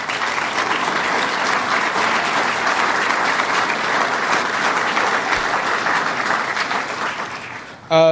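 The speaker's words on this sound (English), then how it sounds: "let's give him a round of applause" An audience at a regional conference on sustainable development breaks into long, even applause, a full steady roar of clapping that tapers off just before a sudden loud sound at the very end.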